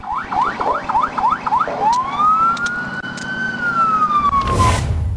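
A police car siren yelps in rapid whoops, then switches to a long rising and falling wail, loud and close, ending in a burst of noise.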